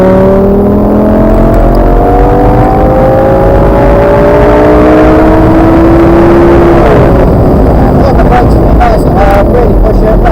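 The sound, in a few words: 560 hp Lamborghini accelerating on the Top Gear track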